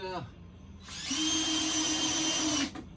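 A power drill runs a screw through a stair riser into the tread during stair building, a steady high whine rising and holding for about two seconds before cutting off, heard close and loud.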